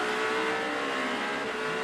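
An Aston Martin race car's engine revs hard during IMSA qualifying at Indianapolis, a loud, continuous high-pitched howl holding steady throughout with no voices.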